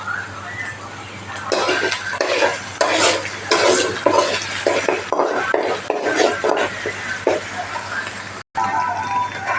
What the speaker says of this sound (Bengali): পেঁয়াজটা আমার একটু ভাজা হয়ে গেছে